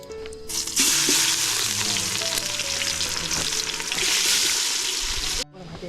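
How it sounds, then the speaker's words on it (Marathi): Onion drops into hot oil with whole spices in a village kitchen, bursting into loud, continuous sizzling and crackling close up, with utensil stirring and clinks throughout before cutting off abruptly. "इथे अख्खा मसाला टाकलेला आहे आणि तेल पण चांगलं गरम झालेलं आहे आता ओमका टाकतोय कांदा"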